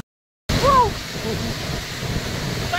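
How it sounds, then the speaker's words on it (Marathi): Kuderan waterfall roaring behind a group outdoors: after a moment of silence, a loud, steady broadband rush of falling water fills the scene, with a brief faint whistle-like sound near its start. "आमच्या पाठीमागे धबधबा वा आमच्या पाठीमागे वॉटरफॉल वा"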